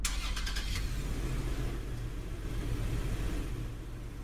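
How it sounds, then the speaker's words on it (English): A pickup truck's engine starts with a brief cranking rattle, then settles into a steady, low, rumbling idle that stays close and loud with no talk over it. "show you guys the startup sound."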